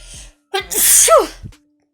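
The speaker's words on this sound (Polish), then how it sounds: "chyba zaraz kichnę" A single loud, close sneeze with a sharp intake of breath before it, followed by a short exhale and quiet.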